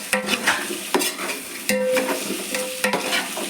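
Vegetables with green chilies being stirred in a hot pan for vegetable biryani, a loud sizzle broken by four or five sharp scraping strokes of a metal spoon against the pan, close up, no talk.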